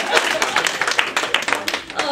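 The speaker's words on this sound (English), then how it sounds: "Let's give Betty a big round of applause." Audience clapping for Betty at a lunchtime talk gathering, a brief burst of scattered hand claps with uneven rhythm, moderately close, under faint room murmur.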